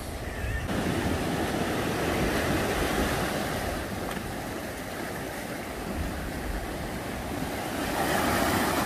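A steady roar of surf washes continuously, like waves breaking on a Bali beach, with gusts of wind buffeting the microphone.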